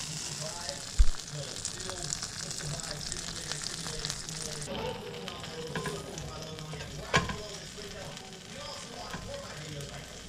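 A grilled cheese sandwich with mayo outside, butter inside and cheddar sizzles in a lidded frying pan, giving a soft, continuous crackling fry with occasional louder clinks and faint background voices.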